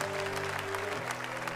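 A church congregation at a men's faith gathering applauds steadily throughout, a dense wash of clapping over sustained keyboard-like tones that shift pitch partway through.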